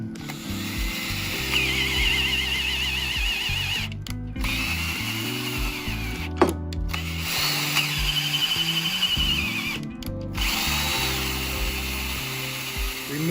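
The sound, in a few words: power drill tapping threads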